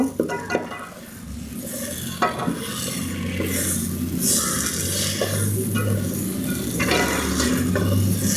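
Ash gourd (chal kumra) frying in ghee for a morabba, with a steady close sizzle and repeated scraping and clinking of a spoon against the pan throughout.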